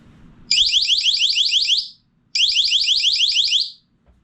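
A tactical flashbang device for home use sounds off with two loud, shrill, rapidly warbling alarm bursts, each lasting about one and a half seconds, separated by a short pause, up close in a quiet room.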